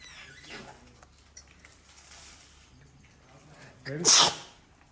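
One loud, close sneeze from a person at a home birthday celebration bursts out near the end, after quiet room noise and faint shuffling.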